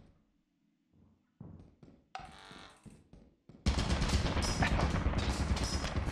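Scattered thuds and clanks give way to a loud, sustained burst of rapid automatic turret fire in a video game, a dense, continuous rattle that lasts until the end.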